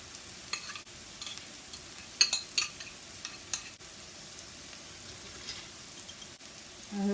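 Ground lamb meat cooking in a pan for halim, giving a soft, steady sizzle with occasional stirring scrapes and small pops, fairly quiet and with no talking.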